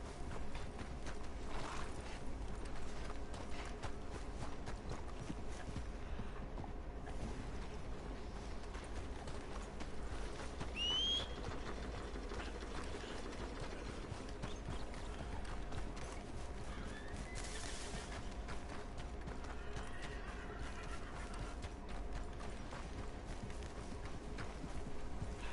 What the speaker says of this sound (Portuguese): Eles colocou esses burros pra ficar andando?